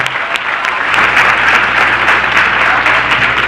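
A room full of worshippers claps steadily together at a religious gathering, a dense, sustained wash of applause held at an even, fairly loud level throughout.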